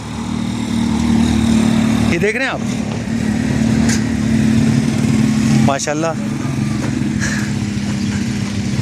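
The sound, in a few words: 70cc motorcycle engine running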